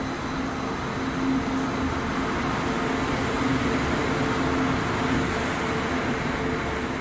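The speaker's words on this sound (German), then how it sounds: "Neben mir fährt ein Zug, ein ICE der Baureihe 1 raus." An ICE Class 1 high-speed train pulls out of Essen Hauptbahnhof, a steady rumbling drone with a faint tonal hum, heard close and continuous alongside the platform with no talking.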